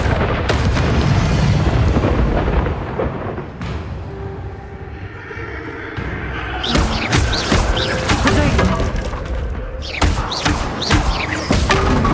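Bombarda blasting spells explode in Hogwarts Legacy. Heavy booms and crashing impacts repeat across the stretch, with a dense rumbling opening and sharper cracking blasts in the second half, loud and close.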